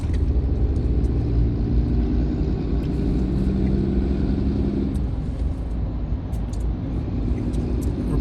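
Steady road traffic rumble while driving through Atlanta, Georgia, a continuous low hum of cars moving nearby with no talk.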